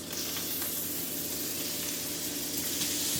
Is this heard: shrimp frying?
yes